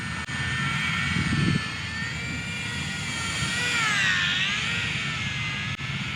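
An Eachine Mini P-47 RC warbird model plane flying slowly on a windy day: a high, buzzing electric motor whine that holds steady and then swells and dips in pitch as it passes, with faint wind noise underneath.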